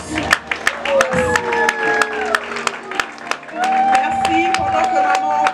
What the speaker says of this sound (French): Applaudissons le cinéma congolais, s'il vous plaît. Par nos applaudissements, rendons hommage au cinéma congolais